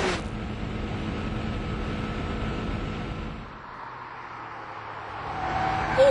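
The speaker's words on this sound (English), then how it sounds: "the car turns in well and then accelerates with just a hint of oversteer coming at the end of the corner" A Jaguar XJ220 supercar accelerating out of a corner, its engine roar steady and fairly loud for a few seconds, then dropping away to a quieter, more distant hum before rising again at the end.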